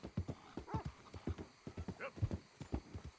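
Horse hooves clip-clopping in a quick, uneven rhythm close by in Red Dead Redemption 2, with a brief whinny partway through and someone talking over it.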